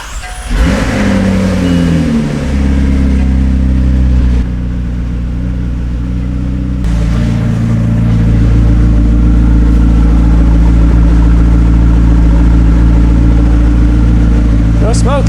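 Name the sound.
McLaren car engine revving on test drive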